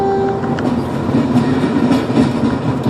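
A passenger train travels on rails through northern Moldova in Romania, a steady loud rumble with faint rhythmic clatter and a brief tonal whine at the start, with no voices.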